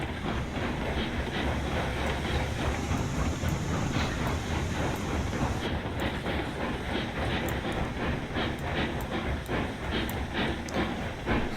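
Steam locomotive in the railroad game Railroads Online rolls along with a continuous rumbling roar, hissing, and regular clicking beats from the track, heard close and steady throughout.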